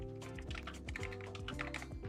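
Someone types on a computer keyboard while entering loan figures, a quick, uneven run of soft key clicks close by and fairly quiet, with no talking.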